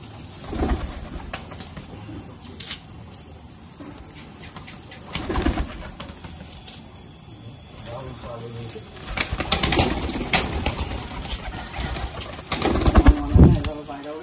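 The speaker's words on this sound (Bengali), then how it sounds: "এটা হচ্ছে গিড্ডে পায়রা।" Pigeons, a Giddhe breed among breeding pairs, being handled with wings checked, giving bursts of close wing flapping and fluttering alongside soft cooing, with people talking in between.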